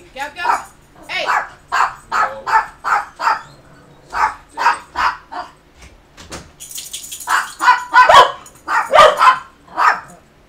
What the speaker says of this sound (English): That's why she's barking.